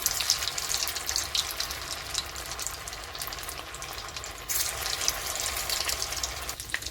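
Small soya chunk balls fry in hot oil for crispy chilli soya balls. A loud, close, bubbling sizzle runs steadily throughout, surging slightly midway, with no voices.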